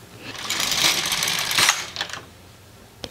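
A knitting machine carriage slides across the needle bed in one loud, close, rasping pass lasting about a second and a half, followed by a few clicks and a sharp final tap.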